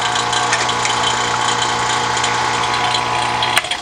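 A vacuum pump hooked up for air conditioning repair on a 1995 Chevrolet K1500 4x4 truck runs with a steady, loud mechanical drone and a constant low hum, ending in a brief click near the end.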